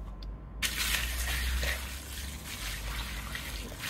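Water pours steadily into a gravel-filled soakaway cavity, starting abruptly and continuing as a close, hissing gush and trickle over the stones.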